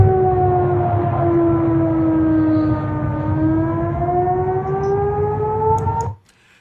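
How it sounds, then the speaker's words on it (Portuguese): A wailing air raid siren in Sevastopol, Crimea, drones steadily, its pitch slowly dipping and rising, before cutting off abruptly near the end. "está a sirene de alerta aéreo novamente"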